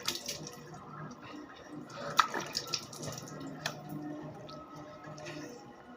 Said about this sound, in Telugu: అందుకని ఫేస్ వాష్ చేస్తున్నాను